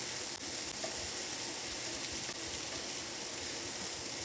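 Corn sizzles and crackles steadily in a hot pan, a constant close frying hiss with occasional stirring scrapes.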